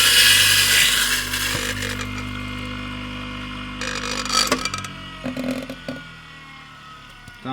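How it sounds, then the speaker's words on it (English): An in-store electric coffee grinder running at about 1,700 RPM grinds coffee beans straight into a bag, a loud harsh whir that fades into rattling and scraping bursts as the grinding finishes. "grind by yourself the coffee in different grind sizes directly into the bag"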